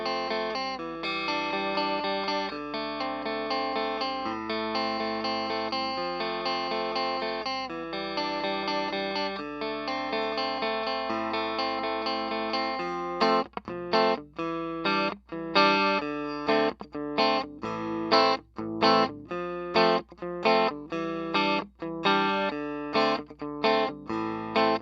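A Glarry flame-shaped electric guitar plays a clean amplified passage with sustained chords and melody, shifting midway to sharper, rhythmic strummed chords with brief choppy gaps, loud and steady throughout.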